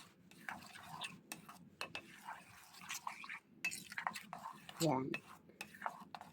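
Mango graham dessert being stirred in a bowl: soft scraping, clinking utensil taps and wet squelching strokes in an irregular rhythm, close and quiet, with a brief murmured word.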